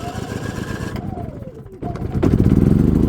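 Predator portable generator being started: a motor rumble with a falling whine gives way, then the engine catches and settles into a steady, loud, pulsing run close by.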